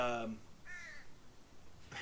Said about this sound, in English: even the crows agree